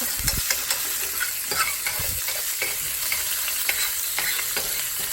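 Bacon fries in an overheated pan, a loud, dense crackling sizzle with sharp pops and a few utensil scrapes, steady throughout with no talking.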